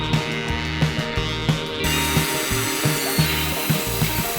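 A power saw cuts angled wood panels for a camper van box build, with repeated rhythmic thumps and grinding strokes, loud and close, the tone changing partway through.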